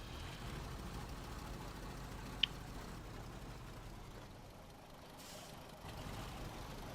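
Steady low rumble of a heavy truck engine in SnowRunner, playing on the Quebec Phase 15 test server, droning evenly throughout with one sharp brief click midway.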